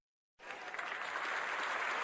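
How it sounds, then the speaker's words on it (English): An applause sound effect on a YouNow livestream bursts in abruptly after a brief silence and carries on as a steady, dense crowd clapping. "Thank you for the applause"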